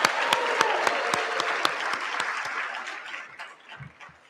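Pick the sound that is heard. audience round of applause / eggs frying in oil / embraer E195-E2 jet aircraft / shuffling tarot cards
audience round of applause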